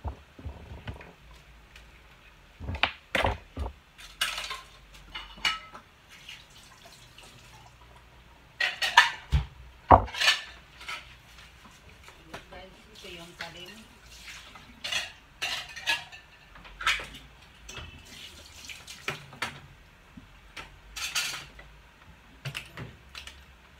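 Plates and dishes clatter and knock while being washed and handled in a kitchen, with scattered close clinks, scrapes and splashes of water spread irregularly throughout.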